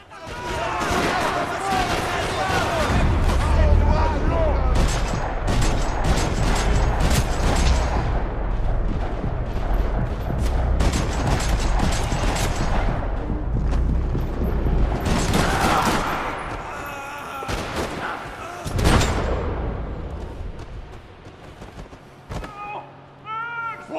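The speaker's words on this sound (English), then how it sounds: "Another parking lot rattling with gunfire." Rapid bursts of gunfire rattle repeatedly in a parking lot in the video game Max Payne 3 on PS3, loud and dense, with sporadic shots and other noise trailing off toward the end.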